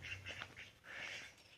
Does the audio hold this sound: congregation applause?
no